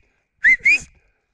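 A person whistles a two-note call to an American Akita dog, two short bright rising tones close to the mic, with silence before and after.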